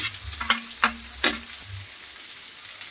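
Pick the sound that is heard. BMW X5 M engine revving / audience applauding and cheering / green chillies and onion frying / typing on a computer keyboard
green chillies and onion frying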